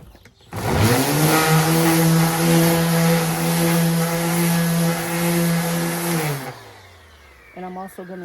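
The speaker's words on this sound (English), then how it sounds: "I'm also going to sand under the bottom." An electric sander runs inside a camper van build, one sustained whirring burst of about six seconds that starts abruptly and winds down, loud and close with no talk over it.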